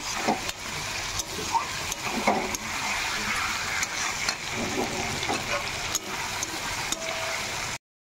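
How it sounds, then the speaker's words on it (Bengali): Food fries in a kadai over a high gas flame while a spoon stirs it, giving a steady sizzling hiss with scraping and clinking touches, moderately close and without talk. "হালকা করে নেড়ে দিই, কড়াই লেগে যাচ্ছে"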